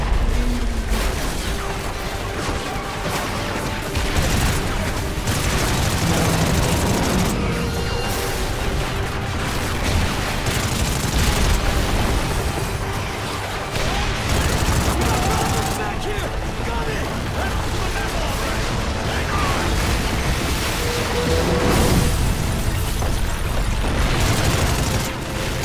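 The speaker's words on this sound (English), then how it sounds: "I think we're a little too close to the explosions." Explosions and gunfire from the Call of Duty: Ghosts video game, a dense, continuous barrage of booms and rattling fire that stays loud and close the whole time.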